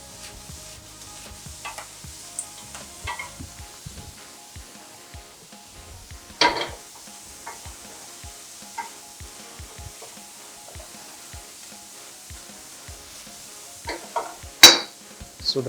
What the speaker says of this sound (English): So sweet corn will start popping like popcorn.